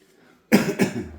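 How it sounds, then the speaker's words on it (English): A single sharp cough bursts out after brief quiet, loud and close, with a second smaller hack a moment later, tailing off into a raspy breath. "Sorry, still trying to fight this cough."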